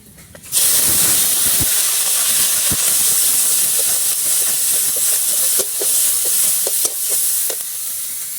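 Ground spice paste hitting a hot pan after frying eggplant, erupting into a loud, sustained steamy hiss and sizzle with scattered crackles and scraping stirs.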